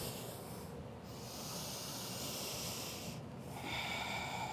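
A long, steady, breathy exhale hisses close to the mic during a power yoga flow, with a brief pause before another breath begins.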